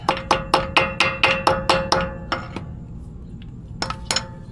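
A hammer taps a metal screw extractor on a broken cross pin bolt in a quick run of about ten sharp, ringing strikes, then pauses before two more taps.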